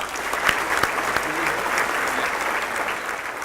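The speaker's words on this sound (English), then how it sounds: "Let's give all of these folks a round of applause." A breakfast crowd at the 2015 Clovis Mayor's Breakfast gives Rodeo Association board members a steady, full round of applause that holds evenly throughout, with faint voices mixed in.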